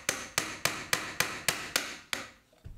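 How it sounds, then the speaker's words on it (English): A screw and wall plug are hammered through a wooden stud into brick in a bungalow: eight sharp, evenly spaced hammer blows at a brisk, steady rhythm, close and alone, followed by a softer knock. "use a screw to hammer it through into the brick"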